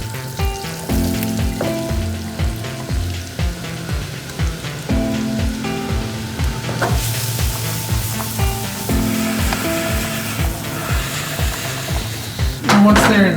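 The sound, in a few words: vegetables sizzling in buttered pans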